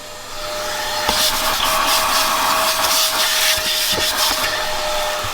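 A cordless vacuum cleaner running on lithium batteries drones steadily and loudly nearby with a constant whine, a few faint knocks heard over it.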